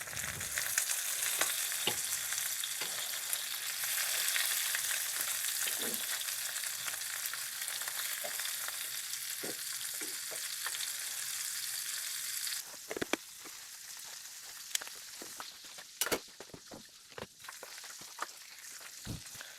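An egg fries in butter in a pan with a steady, loud sizzle and crackle throughout, and sharper pops and spatters come through as the hiss eases near the end, with no voices.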